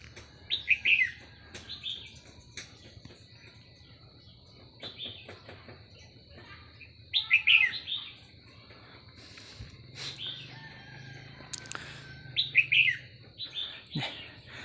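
Red-whiskered bulbuls calling in a forest, bright chirpy phrases repeating in bursts at moderate distance over a constant insect drone, with faint rustles between calls.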